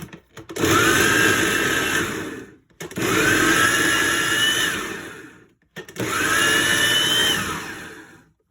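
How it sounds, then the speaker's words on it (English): A small food processor chops spaghetti sauce ingredients in three loud pulses of about two seconds each, a whirring motor whine separated by short silent pauses. "So with the small food processor, I just turn it."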